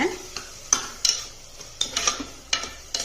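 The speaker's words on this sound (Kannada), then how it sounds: "ಈಗ ಟೊಮೆಟೊ ಮತ್ತು ಪೇಸ್ಟು, ಶುಂಠಿ ಬೆಳ್ಳುಳ್ಳಿ ಪೇಸ್ಟು ಎಲ್ಲ ಚೆನ್ನಾಗಿ ಹುರಿಯೋಣ" Tomato and ginger-garlic paste fry in a pan over high heat with a steady low sizzle, while a spoon scrapes and clinks against the pan in irregular, close strokes.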